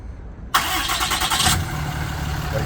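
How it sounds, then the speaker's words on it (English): A six-cylinder truck engine fires up by remote start with a sudden loud crank, then settles into a steady, close idle rumble. "Let's see if it does a remote start."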